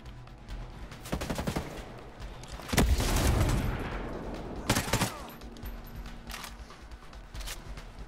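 Gunfire in Ghost Recon Breakpoint rattles in bursts, with a loud sustained volley in the middle, then scattered shots and quieter game ambience.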